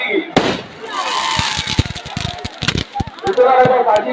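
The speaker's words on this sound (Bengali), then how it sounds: "আতশবাজি প্রদর্শন করছে সুন্দরবন ফায়ারওয়ার্কস রায়দিঘি।" A public fireworks display at a Raas festival fairground goes off in a rapid series of sharp bangs and crackling bursts. Crowd noise and a voice on a loudspeaker run beneath the explosions.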